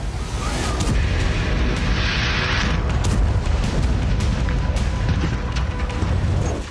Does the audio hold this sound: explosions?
yes